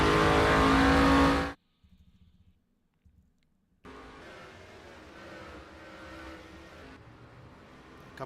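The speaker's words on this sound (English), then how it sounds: "A couple of cars going around here on the opening lap." Stock cars lapping in NASCAR Racing 2003 at Auto Club Speedway, a loud engine roar that cuts off abruptly, then brief faint engine bursts before a steady, moderately loud drone of cars circling continues without talk.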